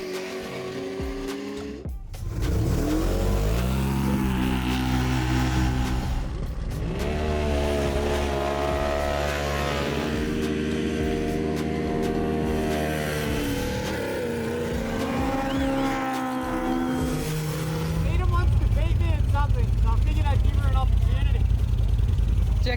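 Side-by-side off-road vehicles drag racing down a quarter-mile dirt strip, loud sustained engines revving and climbing in pitch through the gears, close and continuous, with a voice talking over the roar.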